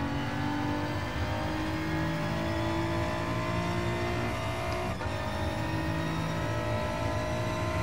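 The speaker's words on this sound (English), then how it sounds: "This sounds really nice, this car." A race car engine in a video game revs loudly and steadily, its pitch climbing in layered harmonics, with a brief shift partway through, continuous and close with no talking.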